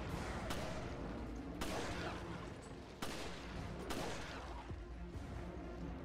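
Gunshots from the Resident Evil: Revelations video game, four sharp, fairly quiet reports spaced about a second apart over a busy, reverberant game soundscape.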